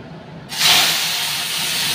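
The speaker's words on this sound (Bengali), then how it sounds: "এবার চিংড়ি মাছগুলো দিয়ে দেবো কড়াইয়ের মধ্যে।" Prawns tipped into hot oil in a wok set off a sudden loud hiss that swells quickly, then settles into a steady, close sizzle.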